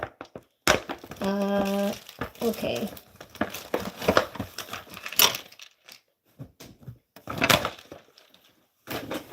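Crinkly plastic keychain packaging rustles and crackles as it is torn open up close, with a brief spoken word and some clicks and rattles.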